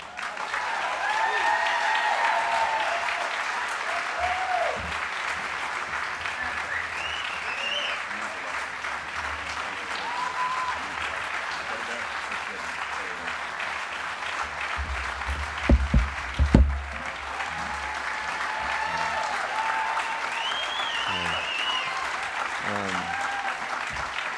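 Sustained audience applause fills a gala hall at the 2018 UCLA Institute of the Environment and Sustainability event, a dense, even roar of clapping greeting Van Jones, with a few louder bumps partway through.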